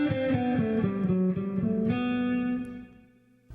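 Electric guitar in an exercise, picking a quick run of sixteenth notes in even rhythm, close and clear, then letting the last note ring and fade.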